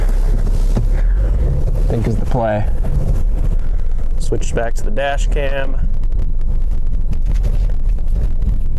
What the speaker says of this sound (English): I'm got wind all over in here. Super windy.